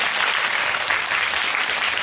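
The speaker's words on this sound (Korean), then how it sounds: "우리 배우님께 다시 한번 큰 박수 부탁드리겠습니다" Audience at a Korean film talk screening of Monster in a cinema hall applauds the actor, a dense, steady wash of many hands clapping throughout, loud and sustained with no talk.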